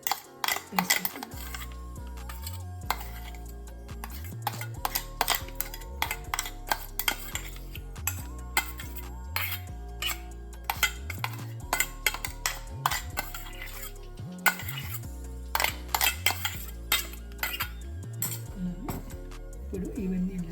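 Green chili, ginger and salt mixed by hand in a bowl, steady rhythmic clinks and scrapes of utensil against the bowl up close, with music playing underneath and a voice talking.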